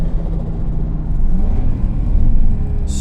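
Toyota Supra with a 7M engine and R154 gearbox, revving between shifts with a steady, close engine rumble that rises slightly; a brief higher whir near the end.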